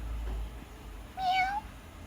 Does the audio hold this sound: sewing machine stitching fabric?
no